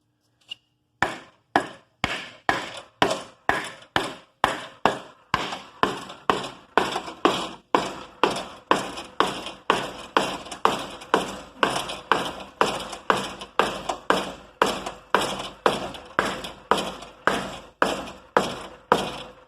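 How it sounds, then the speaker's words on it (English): Steady series of dull thuds from a dead blow hammer tapping a tire while fitting a drift bike skin, dozens of evenly spaced strikes, close and fairly loud, with no speech. "Grab you a dead blow hammer."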